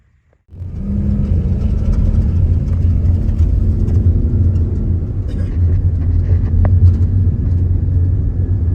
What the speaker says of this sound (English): You can see it's these tiny little open air taxis, tuk-tuks is what they're called in a lot of places.